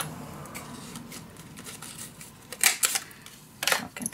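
Paper being cut for a scrapbook page, with soft scissor snips and handling rustles leading into two louder, crisp bursts of cutting near the end.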